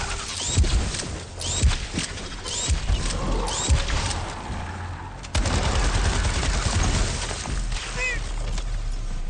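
Gunfire from the survival horror game Daymare 1994 as shots are aimed at pylons: rapid, sharp cracks and bursts over a dense, noisy game soundscape, with metallic pings and impacts scattered throughout.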